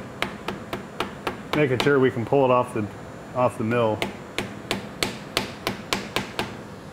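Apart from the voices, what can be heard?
rubber mallet tapping in a 3/8 dowel pin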